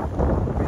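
Strong wind buffets the microphone in a continuous low rumble, gusting steadily with no voices, on a mountain in Southern California.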